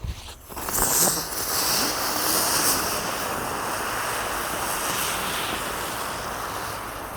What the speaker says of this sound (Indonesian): selanjutnya yang kita nyalakan di sini ada gangsing super 3 warna. Kita nyalakan 1 pak sekaligus